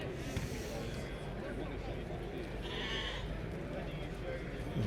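Dutch Spotted sheep bleating at a livestock show at the Royal Highland Show, the calls mixed into a steady crowd hubbub with voices talking nearby.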